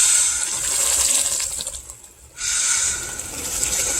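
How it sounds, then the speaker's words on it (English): Bourbon pours into a hot syrup mixture for a bourbon glaze, a steady liquid gushing and sizzling hiss that drops away briefly in the middle, then returns strongly, with no voices. "I'm going to add this bourbon, stir it in good"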